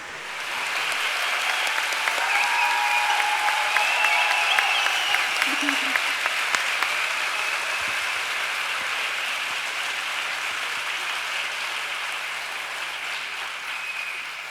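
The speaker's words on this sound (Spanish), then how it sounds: "Fuertes aplausos." An audience at a public meeting with Manuela Carmena at the University of La Laguna breaks into sustained applause, a dense wash of clapping that swells and then holds steady.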